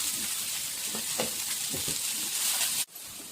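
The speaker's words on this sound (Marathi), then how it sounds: "आपण जे खडे मसाले घेतले ते पण घालूया। त्यामुळे लवकर भाजले जाते।" Whole spices, bay leaf, onion, garlic and tomato fry in a pan for egg curry, a steady close sizzle with light stirring knocks that cuts off abruptly near the end.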